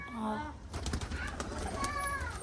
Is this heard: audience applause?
no